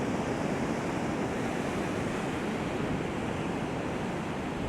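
Ocean waves washing along a Moroccan seashore, heard as a steady, loud broadband roar with no distinct breaks and a faint wind rumble, no voices.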